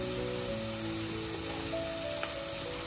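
Malabar spinach bhaji frying in a pan with red chili powder on low gas: a steady close sizzle runs without pause, with faint clinks and stirring scrapes.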